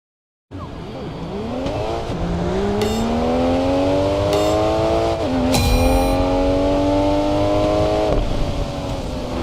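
Race car engine in the Racing Master video game revving hard and rising steadily through the gears, loud and continuous, with a brief tire squeal and short high whines, no talk.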